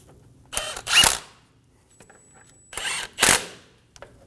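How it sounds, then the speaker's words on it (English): Brake caliper bolts being snugged down on a 2019-2025 Ram 2500 front brake. Two separate pairs of short, crisp mechanical whirring bursts come from close by, with quiet gaps between them. "Install the caliper bolts. Snug the bolts down."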